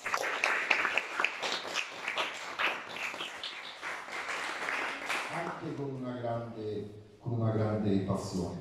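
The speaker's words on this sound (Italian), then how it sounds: "e questo applauso facciamo" Applause from an audience at a tourism presentation event, a dense wash of clapping under a speaker's voice, fading as talk continues over it.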